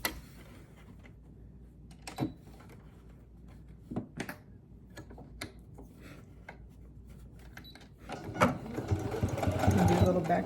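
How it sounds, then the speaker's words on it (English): A sewing machine stitching near a zipper, starting with scattered taps and clicks before the motor whirs up into a loud, steady run toward the end. "when I start sewing"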